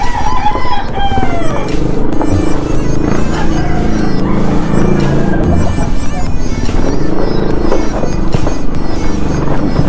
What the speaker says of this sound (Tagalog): Daming manok ng kapitbahay namin